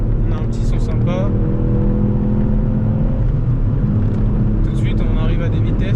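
A Ford Fiesta ST 200 hp engine running under acceleration, a loud, steady droning roar heard from inside the car, with someone talking over it at the start and again near the end.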